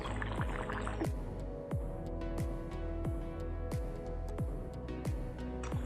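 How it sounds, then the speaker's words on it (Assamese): Pure mustard oil poured into a pan in a village kitchen, a steady liquid trickle with repeated sharp drips and ticks, close and fairly quiet, with no talk. "মই ইয়াতে খাটি সৰিয়হৰ তেল অকণমান দি দিছোঁ।"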